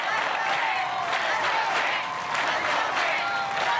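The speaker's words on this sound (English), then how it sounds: "the crowd's starting up the Grant chant." Crowd noise at an American Ninja Warrior qualifying course in Cincinnati, a steady loud roar of spectators cheering and clapping, with rhythmic swells suggesting a chant, all under an announcer's commentary.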